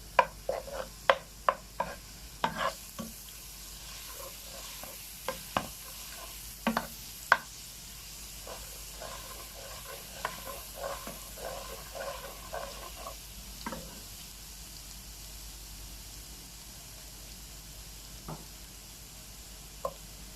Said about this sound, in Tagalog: So igigisa po natin.